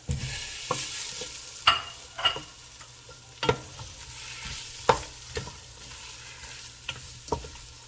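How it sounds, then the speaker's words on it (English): A spoon stirs bean stew with linguiça sausage in a pot while it simmers, knocking and scraping in irregular strokes over a soft, constant bubbling sizzle. "Keep stirring a little bit. I'm gonna stir this more and less about 3-4 minutes."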